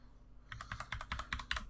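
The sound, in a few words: typing on a computer keyboard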